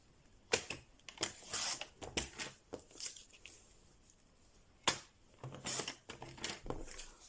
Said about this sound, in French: donc je vais couper un peu le surplus